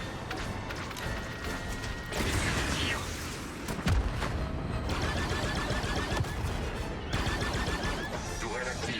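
Rapid turret gunfire bursts in the Star Wars Outlaws video game, repeated volleys with mechanical clatter and booms, fairly faint under a speaking voice.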